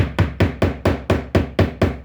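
A hammer taps a drive shaft seal into place with nine evenly spaced, sharp metallic strikes about a quarter second apart, loud and close with short ringing decays.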